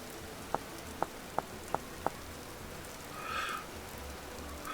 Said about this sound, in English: Oh, we've got hail.